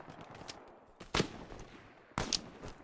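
Machine gun fire in a video game, heard as a few short bursts at a moderate distance, with a sharper pair of volleys standing out above a low background.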